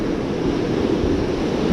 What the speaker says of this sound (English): Big wave coming through.